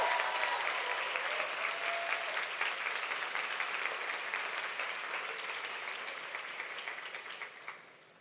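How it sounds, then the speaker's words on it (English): An audience claps for a product development team at a convention, a dense, fairly distant round of applause that gradually fades toward the end. "Please give them a round of applause."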